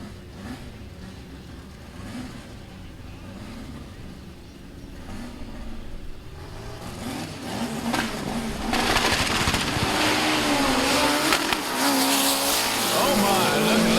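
Pro Mod drag race cars launch down the track on a record run, a deep engine roar building from a rumble into a loud sustained howl as they pull away, with commentary talking over it.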